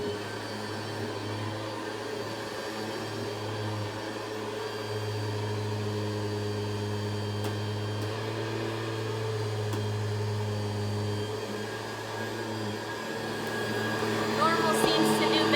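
Steady whirring drone of a Hoover convertible vacuum cleaner with its brush roll running on carpet, loud and continuous with a low motor hum throughout, slight rise near the end.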